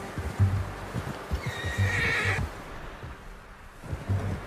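A horse in the video game Red Dead Redemption 2 whinnies once loudly and close, a drawn-out neigh, over soft hoof clops and low rumbling in the background.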